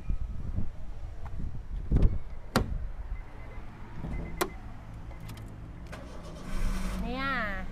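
A 2013 Honda Jazz 1.5 V with a stock i-VTEC engine and its bonnet open starts up: a few loud clunks and thumps, then a short cranking whir and a quiet idle, with someone talking nearby.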